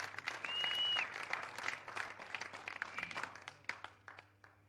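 An audience at a Lahore entertainment event bursts into dense, steady applause that holds strongly for a couple of seconds, then gradually thins into sparser, separate claps as it fades.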